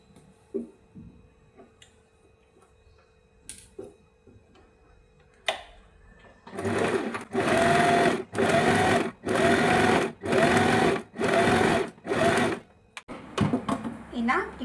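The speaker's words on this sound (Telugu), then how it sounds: "ముందుగా మనం నెక్ అనేది స్టిచ్ చేసుకుందాం." A sewing machine stitches the neck of a net long frock in several loud, evenly spaced bursts of rapid whirring, each run ending in a short pause, after quieter handling clicks and someone speaking nearby.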